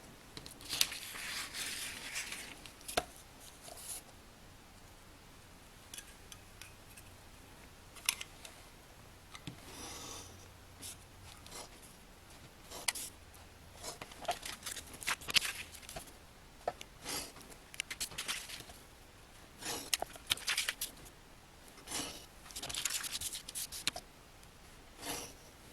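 Paper for a Hungarian map fold book being cut with scissors: quiet, scattered snips and rustles come in irregular bursts, with pauses of near silence between them.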